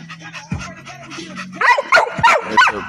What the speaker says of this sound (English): Pup off of Dirty and Secret